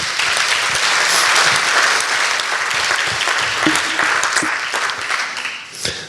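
A conference audience bursts into warm applause, thick clapping that swells early and then thins toward the end, with a few distinct sharper claps standing out near the close.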